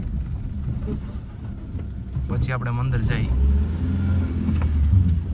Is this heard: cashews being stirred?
no